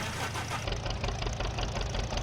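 Vintage John Deere tractor in Farming Simulator 15, the old two-cylinder idle chugging in a steady loud low pulse, continuous and close with no talk over it.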